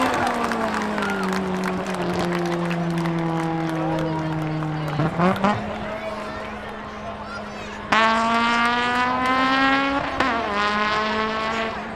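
An Acura and a Mustang race at the Oxford Plains Speedway spectator drags, their loud engines droning and shifting pitch as they accelerate, with a second engine surging in partway through and a voice over them.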